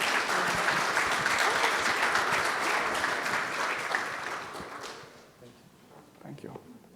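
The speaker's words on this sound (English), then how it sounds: "A round of applause to them as we conclude." Sustained applause from a crowd, clapping steadily and then thinning out toward the end, with a few voices audible.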